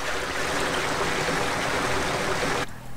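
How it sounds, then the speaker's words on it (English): Increased water flow in the Grandia II video game, a steady rushing stream sound that cuts off abruptly near the end, heard alone. "This increases the water flow."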